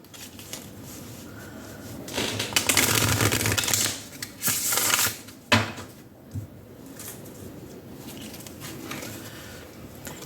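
Oracle cards being shuffled in quick riffling bursts, close by, with brief pauses between shuffles.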